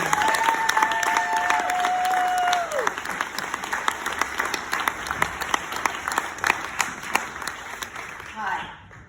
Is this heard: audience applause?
yes